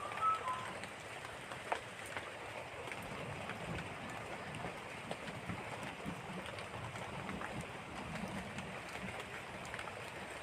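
Chopped onion, garlic and green chili fry in a pan, a steady low hiss and crackle of sizzling oil that continues quietly throughout.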